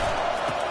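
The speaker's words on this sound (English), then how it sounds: "This crowd trying to make life miserable for this offense." Stadium crowd roar in the College Football 25 video game during an Alabama vs. Wisconsin matchup, a steady loud wall of cheering and noise with no break.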